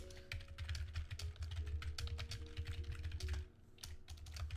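Rapid, uneven clatter of keys on a computer keyboard, close and fairly quiet, with bursts of quick strokes and a brief pause near the end over a low steady hum.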